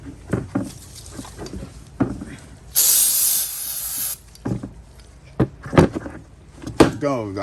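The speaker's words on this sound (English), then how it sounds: "let's go ahead and let's spray that with carburetor cleaner as well" A single sustained aerosol spray of carburetor cleaner hisses for about a second and a half, loud and close, between bursts of talk and clattering work sounds during Cub Cadet RT 65 maintenance.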